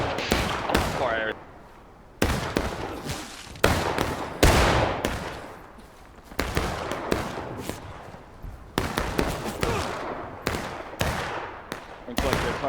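Musket volleys crack out in a video game battle, sharp reports repeating in bursts across the line, loud and close, with gaps between volleys and a voice speaking at points.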